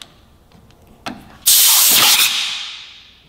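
A burst of compressed air from a shop air compressor blasts under a Kawasaki Ninja 400 handlebar grip, a loud broad hiss starting abruptly after a brief click, then tapering off over a second or so.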